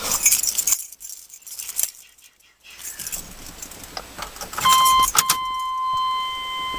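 Keys jangle and clink in short metallic bursts up close, followed by a steady electronic tone with faint mechanical clicks.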